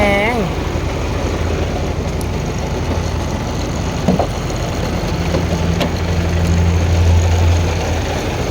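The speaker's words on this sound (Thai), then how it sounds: "ดูเสียงเครื่องอ่ะทุกคน เนี่ยติดเครื่องแล้วนะเนี่ย" A freshly started Rocky FXZ-260 truck engine runs at a steady, loud idle, a continuous low diesel rumble with a brief knock midway, while people talk nearby.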